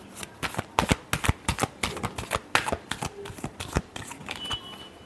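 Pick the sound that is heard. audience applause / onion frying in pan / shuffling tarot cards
shuffling tarot cards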